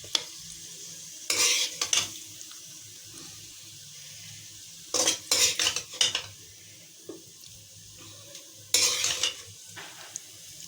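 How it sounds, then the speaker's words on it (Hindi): A metal spoon scrapes and clinks against a pan while boiled potato chaat with salt and chaat masala is served out, three clusters of sharp close clatter separated by quiet pauses, with no voices. "हम इसको डिश आउट करेंगे।"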